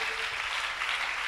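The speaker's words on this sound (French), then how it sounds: "Please put your hands together" Steady, dense applause from a church congregation fills the space evenly, a broad wash of many clapping hands with no individual claps standing out and no talking over it.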